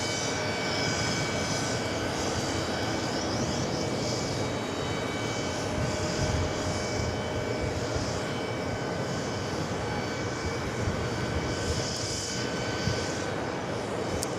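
Airbus A330-200 jet engines idling and rumbling steadily at JFK while the airliner waits to cross runway 4 Left, a broad continuous roar with faint high whine, moderately distant and unchanging throughout.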